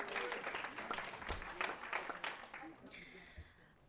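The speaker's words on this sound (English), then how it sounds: "if anybody wants to clap for Stagg." A city council meeting audience applauds a Stagg High School student, scattered clapping that is fairly faint and thins out toward the end.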